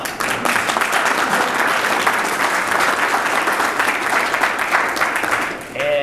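Audience applause fills a graduation ceremony for a mentor-protege business program, a dense, steady wall of clapping that holds loud for several seconds before easing slightly at the end.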